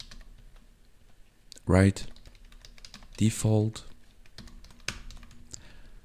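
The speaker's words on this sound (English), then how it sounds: "I've changed the keyboard because the other one was too noisy and distracting me, to be honest. So yeah, I prefer the membrane." Typing on a membrane computer keyboard gives soft, muffled key presses in an uneven stream, with someone speaking briefly twice over the typing.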